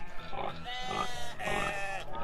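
A toy petting zoo playset's pig sound plays a short electronic oinking and grunting sequence, fairly close and continuous, with no talking over it.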